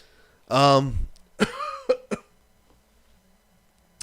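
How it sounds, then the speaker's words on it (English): A loud, harsh cough up close, followed by a few short throaty hiccup-like gasps and catches, then quiet. "Hiccups and coughing."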